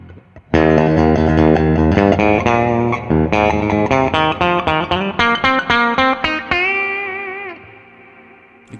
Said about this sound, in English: Next up is the spring reverb.